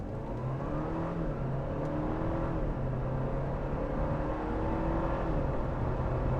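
Interior drone of a 2022 Audi A4 driven in dynamic mode, a steady engine hum rising gently through gears, soft and even with road noise underneath and no voices.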